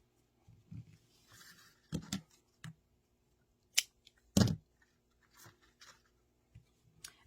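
Scissors snip ribbon while a bow is made for a grapevine flower wreath, giving a few sharp, quiet cuts and crisp rustles scattered over several seconds of near-silence, close to the ear.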